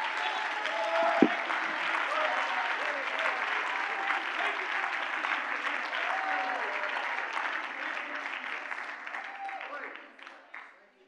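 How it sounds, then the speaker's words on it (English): A congregation at a revival conference claps and shouts in sustained, dense applause with cheering voices, fading out toward the end. "Somebody clap your hands and shout unto God with a voice of triumph."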